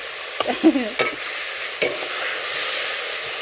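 Fenugreek greens get stirred in a hot cooking pan, with a few scraping strokes of a spoon and light clatter over a low, even sizzle, close by and without talk.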